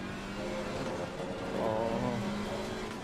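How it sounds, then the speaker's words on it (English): GT4 race car engine in Assetto Corsa Competizione, running in a GT3/GT4 grid at Barcelona, droning steadily and close, with a brief rise in revs midway. "Oh, listen to that engine."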